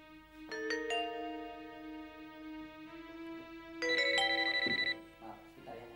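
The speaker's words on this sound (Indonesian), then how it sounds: "Maaf, sebentar ya, ada telepon." A phone ringtone plays a bright, repeating melodic tone in clear bursts across several seconds, loud and close, with a short lull between phrases and a faint murmur beneath it.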